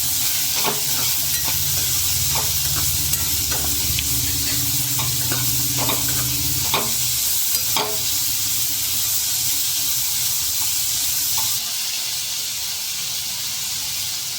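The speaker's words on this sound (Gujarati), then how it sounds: "કાંદાને શેકાવા દઈશું જેથી કરીને તે પણ સરસ રીતે સોફ્ટ થઈ જાય" Onions sauté in spice masala for matar paneer, a steady close sizzle and hiss with scattered stirring clicks and scrapes through the first half, then settling into an even fry.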